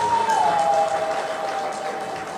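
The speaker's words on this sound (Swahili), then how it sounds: "Piga makofi kwa Dr. Samia." An audience applauding for Dr. Samia, a dense, steady wash of clapping from a crowd with a faint high whistle-like tone running through it.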